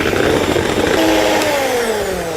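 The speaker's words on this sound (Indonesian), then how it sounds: "Terus ini kita aduk sampai rata pakai mixer." An electric mixer whirs loudly and close by as it beats cream puff filling, a steady motor whine that drops in pitch as it slows toward the end.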